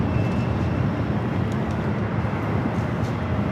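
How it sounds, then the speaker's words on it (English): A Frontier Airlines Airbus A321 arriving at LAX from Phoenix on the north side produces a continuous heavy jet roar with deep rumble, loud and steady throughout. "Our next arrival here on the north side is Frontier, coming up from Phoenix. It's an A321"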